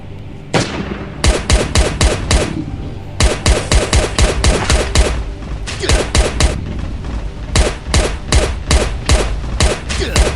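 Bursts of rapid gunfire in a shooter video game set in a harbor laboratory, loud close volleys in quick rhythmic strings separated by short pauses, with no speech over them.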